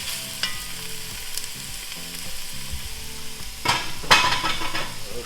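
Chopped vegetables sizzle steadily in a soup pot for a white chicken lasagna soup, with a continuous close frying hiss and a couple of louder stirring scrapes near the end.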